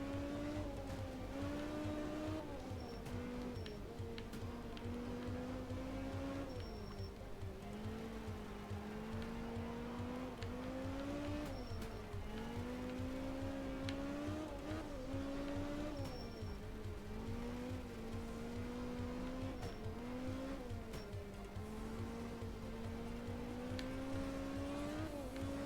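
A Group B rally car in the video game art of rally races through rain, its engine a steady, continuous drone that rises and falls with gear changes and revs, heard alone and fairly quiet throughout.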